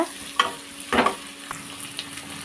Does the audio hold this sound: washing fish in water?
no